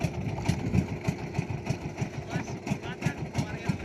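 A nearby engine idles, its regular chugging pulses running steady and fairly loud from start to finish.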